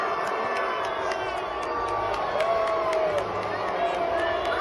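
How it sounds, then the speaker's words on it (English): A large crowd roars as Michigan Governor Gretchen is introduced at a public event, a dense wall of cheering mixed with booing that holds steady and loud from start to finish. "they're cheering, but everybody, the majority is booing"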